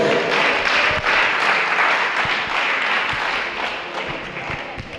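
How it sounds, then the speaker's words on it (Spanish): A church congregation applauds during a sermon, dense clapping with some sharper claps on top, strong at first and tapering slightly toward the end. "Dale un aplauso a su nombre"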